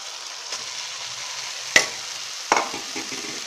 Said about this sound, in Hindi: अब इसमें हम मेथी ऐड कर देते हैं।